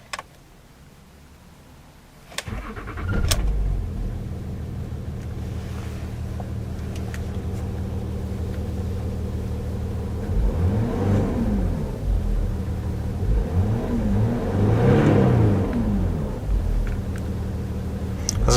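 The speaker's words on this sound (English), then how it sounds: "So let's power on the Range Rover and see how it sounds." A 2007 Range Rover Sport SE engine cranks and catches after a quiet pause, settles into a low idle rumble, then swells through two smooth revs before easing back, close and fairly loud.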